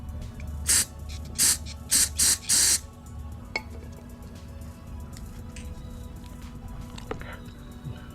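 Cleaner sprays in five short hissing bursts through a 2019 Yamaha MT09 fuel injector, each about half a second and close by, followed by quiet background hum with a few faint ticks.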